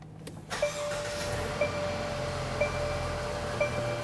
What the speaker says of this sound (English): So now we started it, let it run, shut it down.